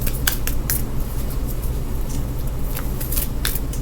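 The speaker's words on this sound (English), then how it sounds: "I never usually have to shuffle for this long." Tarot cards being shuffled at length, a steady close riffling and rustling with sharper snaps of cards near the start and toward the end, with no voices.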